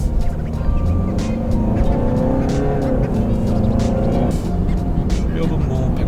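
A diesel Land Rover Range Rover pulls away and drives on, its engine a steady close rumble with road and tire noise throughout, while people talk inside the cabin.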